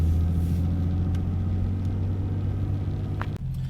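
A manual-transmission car rolls along in first gear with a low, steady engine rumble and hum, ending in a short bump or shift in tone near the close.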